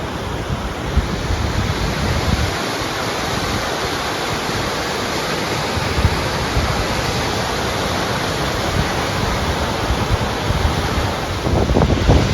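A rushing waterfall in Lassen Volcanic National Park roars as a dense, steady wash of water noise, loud and close, continuing unbroken with some wind buffeting the microphone.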